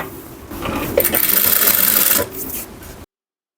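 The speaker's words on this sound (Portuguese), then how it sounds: "E aí vamos costurar." Sewing machine running steadily as two fabric pieces, placed right sides together and aligned along the top edge, are stitched; a continuous mechanical whir lasting about a second and a half, close and moderately loud, with no talking.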